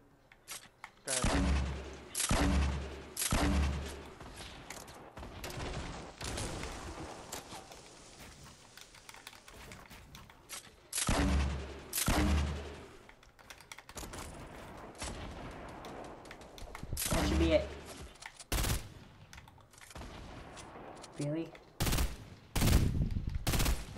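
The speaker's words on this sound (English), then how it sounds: "I just shot him again a second ago" Bursts of rapid gunfire in Fortnite, repeated volleys of sharp shots arriving in clusters, loud against quieter game ambience, with players talking between the shots.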